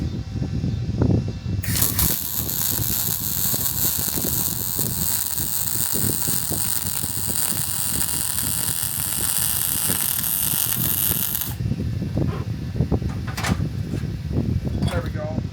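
Steady crackling hiss of a MIG weld laid with a circular weave on a Sefaspe 250A gas welder, running continuously for about ten seconds, close and loud, with clicks and shuffling before and after.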